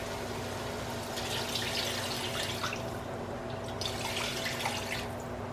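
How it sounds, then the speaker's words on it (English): Water poured from a tap or jug into a pot of basmati rice for goat biryani, a steady close splashing and trickling that runs on alone without pause. "so I'm gonna add 5 cups of water and I'm gonna add it"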